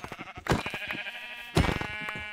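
Minecraft sheep bleat loudly and close in the game, with a couple of drawn-out bleats that overlap and repeat.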